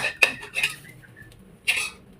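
Eggs stir-fried in a pan with a spatula: three quick metallic scrapes and clanks, with quiet pauses between them.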